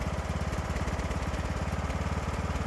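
A small engine idling after a valve seat repair, a steady rapid putter with an even, fast firing rhythm, loud and close, running alone with no talking.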